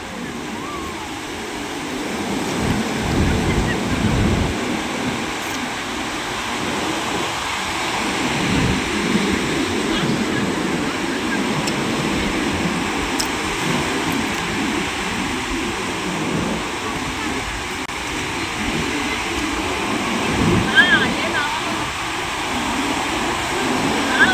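Sea waves wash in and out at Koduru beach in Nellore, a steady broad roar of surf that swells and eases throughout, with faint voices audible beneath it.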